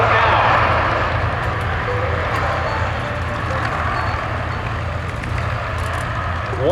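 During its takeoff roll at an air show, a Luftwaffe Airbus A400M Atlas turboprop makes a loud, sustained rumbling roar with a broad rushing hiss that stays fairly even throughout.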